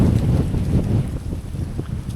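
Gusty wind buffets the microphone of a Quest X10 metal detector outdoors in a field, giving a steady low rumbling roar that swells and dips throughout, loud and close.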